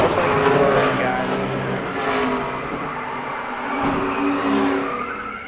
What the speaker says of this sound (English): Newman definitely bounced off the wall and got Junior as he was trying to go by.